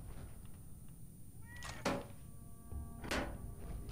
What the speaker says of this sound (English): there's a little kitty cat